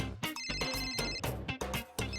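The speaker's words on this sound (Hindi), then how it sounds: "हाँ फोन आ गया।" Telephone bell ringing in rapid repeated bursts, a bright chiming trill that cuts off and restarts several times, loud and close with no voices.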